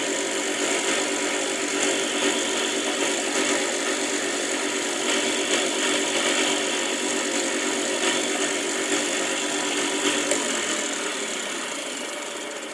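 A power sander sanding a wooden tool handle drones loudly and steadily close by, its high whine unbroken for the whole stretch before easing off slightly near the end.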